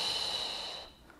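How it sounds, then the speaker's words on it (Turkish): A single long breath drawn in through the nose, close to the microphone, during a pregnancy stretching exercise with a large exercise ball. It is airy and steady, then fades into quiet. "Nefes alıyorum ortada."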